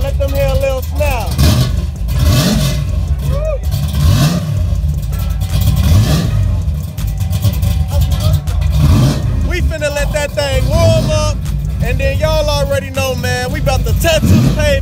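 Big block El Camino with its exhaust cutouts open revs hard several times, loud and close, the engine pitch climbing and dropping in repeated bursts while people talk over it.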